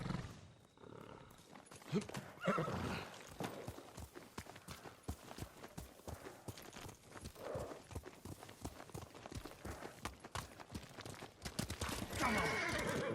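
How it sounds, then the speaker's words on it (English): A horse whinnies loudly in Ghost of Tsushima, then hooves clop in a steady galloping rhythm amid ambient game-world noise, with another neigh near the end. "Horse!"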